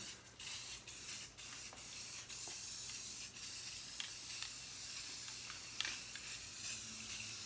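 A wheel is spray painted with light gray self-etching primer, building up to a heavier coat. A loud, steady aerosol hiss runs almost without a break, with a few brief pauses between passes and no talking.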